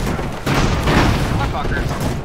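Heavy cannon fire from land ships in an airship battle game rumbles as a continuous dense booming barrage, loud and close, with a voice speaking over it.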